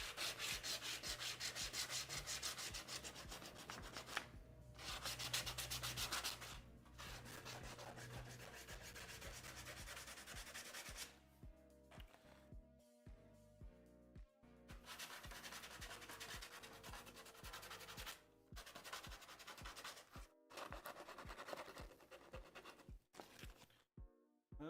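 Hand sanding of a wood carving with 80 grit sandpaper: continuous close rasping strokes in rhythmic bursts with short pauses. The scraping is loud and runs alone throughout.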